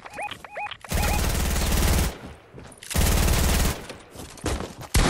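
Submachine gun fire in a video game, two long sustained bursts of rapid automatic shots, loud and close, with short chirping game sounds before them and a brief burst at the end.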